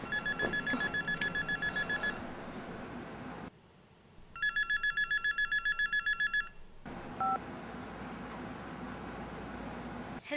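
A mobile phone rings with a repeating electronic beep pattern in short rapid pulses, first over background room noise, then clearer in a burst, then fading back; no one speaks.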